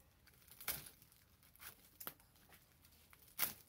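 Packing tape is peeled off a doll box holding a Limwha/EOS Nina BJD, with a few sharp, quiet ripping bursts spaced apart against a faint background.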